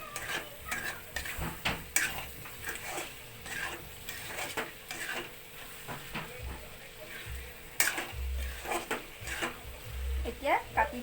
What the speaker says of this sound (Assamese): অলপ হিলাই থাকোঁ।